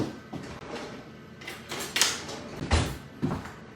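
A kitchen drawer is pulled open and rummaged for a basting brush, giving a few soft wooden slides and knocks, the loudest near the end, close by with no talk.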